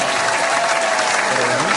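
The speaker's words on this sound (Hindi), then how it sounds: "तालियां" Loud, dense applause from an audience at a Hindi music competition results program, a steady wash of clapping filling the whole moment without a break.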